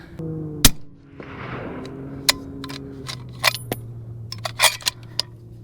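A 7mm-08 Remington rifle fires a 162-grain ELD-X bullet at a shooting range: one sharp, loud crack near the start, followed by scattered light clicks and handling noises over a low hum.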